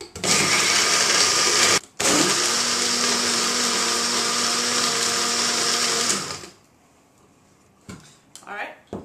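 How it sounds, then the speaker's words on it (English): A blender crushing ice runs loud and steady for several seconds, briefly stopping and restarting, then shuts off, leaving a few quiet knocks and movements. "So we're going to go ahead and put it in our blender."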